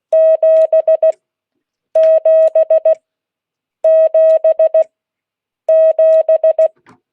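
Four repeated groups of steady electronic tone beeps, each a long tone followed by short ones, spelling the digit 7 in Morse code, clear and evenly spaced with pauses between groups.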